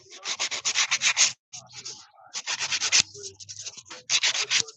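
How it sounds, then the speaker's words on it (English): A hand file rasps across a person's own fingernails in quick rhythmic bursts of scratchy back-and-forth strokes, close and fairly loud, broken by a few short pauses. "I'm trying to use a hand file."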